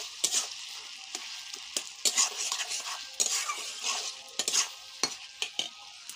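Cashews being stirred into tomato chutney frying in a pan, a spoon scraping and clinking against the metal in quick irregular strokes over a steady close sizzle, with no voices.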